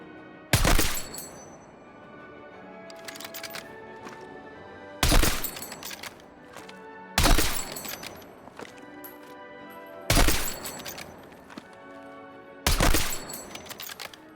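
Sniper rifle gunfire in the video game Battlefield 6, five loud single shots spaced a couple of seconds apart, each followed by a ringing metallic tail and brief clatter, no talking.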